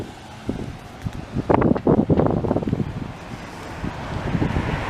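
Strong wind buffets the microphone outdoors while walking along Bernard Street in Montreal's Outremont borough, a loud rushing roar that swells into heavy gusts midway and stays blustery throughout.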